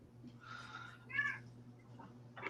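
A cat meows a few times in a quiet indoor room, short mid-pitched calls spread over a couple of seconds against a low steady hum.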